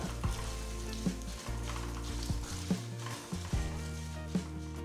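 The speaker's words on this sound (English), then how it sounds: "add 1 teaspoon of mustard seeds, 1 teaspoon cumin seeds, allow them to splutter." Mustard and cumin seeds splutter and sizzle in hot oil in a pot, a continuous fry with repeated sharp pops and stirring knocks.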